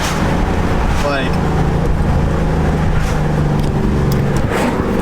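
A sports car with an LS3 V8 engine drives along loudly, its steady low engine rumble filling the whole stretch, with a brief rising whine partway through and people talking over it.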